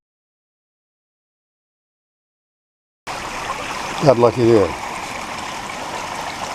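Floodwater pouring steadily from a 4-inch drain pipe at a basement, a continuous close rushing flow that begins abruptly, with someone briefly speaking over it.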